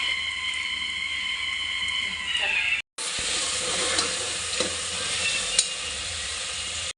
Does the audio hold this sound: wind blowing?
no